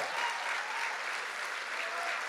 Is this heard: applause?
yes